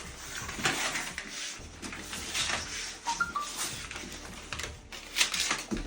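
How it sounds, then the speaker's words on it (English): Tape being peeled off a wetroom shower installation, a continuous close tearing and crackling rasp with small surges throughout, fairly loud and with no speech. "take his tape off"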